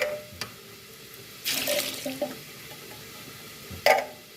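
Canned sweet peas rinsed under a kitchen tap in a sink, brief bursts of running water splashing with soft clinks and handling noises, close and without speech.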